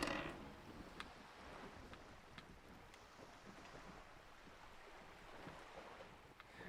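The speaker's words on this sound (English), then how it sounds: "The wind flaps the sail above her." Wind flapping a boat's sail in the game Disco Elysium: a soft, airy rush of wind with faint intermittent flutters and light creaks, steady and low in level, with no talk.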